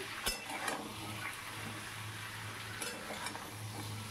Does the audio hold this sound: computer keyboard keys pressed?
no